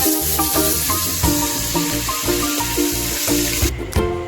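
Water goes into a hot pan of oil and whole spices for chicken biryani. It gives a steady hiss and sizzle that runs under rhythmic background music, with no talking.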